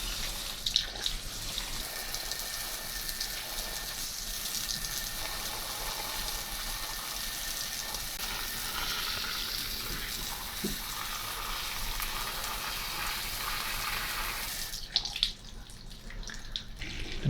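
Pressurised water hisses steadily through the blocked washer jets of a Mini One F56, a continuous broad spray that holds for most of the stretch before a brief clatter and shift near the end.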